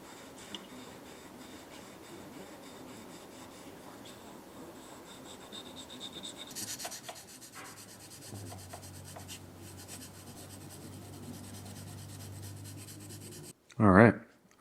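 1200 grit sandpaper rubs back and forth over a finished knife's guard, steady soft rasping strokes close by, growing a bit louder midway, with a short loud knock at the very end.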